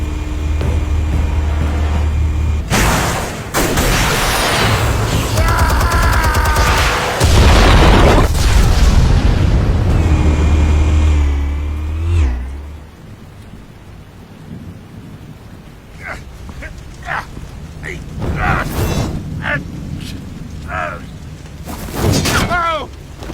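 Explosives detonate in the Batman Telltale video game: loud, deep rumbling blasts roll on for several seconds, then fade into a quieter stretch with voices and a few sharp hits.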